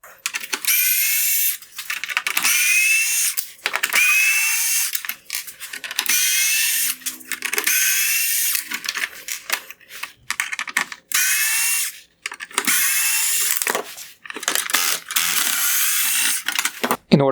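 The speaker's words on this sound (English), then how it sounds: "I will begin by removing the T20 screws holding on this upper LED light bar." A power driver whirs in repeated bursts while backing out T20 Torx screws from the upper LED light bar of a 2019-2021 Jeep Cherokee full LED headlight, close and loud with short pauses between screws.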